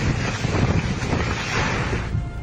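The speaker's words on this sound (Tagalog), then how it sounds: "Malakas din ang bugso ng hangin sa bayan ng Dinapigil." Strong wind gusts during Typhoon Nika in the town of Dinapigil, a loud roaring rush buffeting the microphone, sustained for a couple of seconds and easing slightly toward the end.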